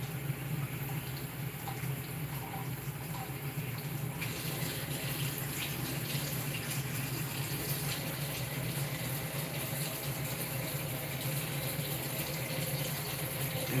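Tap water runs in a steady, close stream while tomatoes are washed for a salad, a continuous even rush of splashing water with no pauses.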